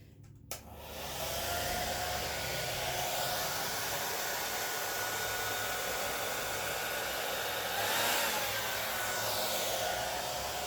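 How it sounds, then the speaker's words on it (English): A hair dryer blows steadily and loudly for about ten seconds onto poured paint to spread it outward, a continuous broadband whoosh with slight swells, no voices. "I'm going to get my blow dryer and I'm going to blow each petal outwards."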